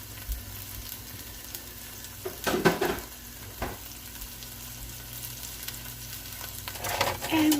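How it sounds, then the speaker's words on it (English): Sofrito sizzling steadily in a skillet, a constant close frying hiss with occasional scraping stir strokes and a louder stirring scrape near the end. "And we'll start stirring this up. And let that fry up."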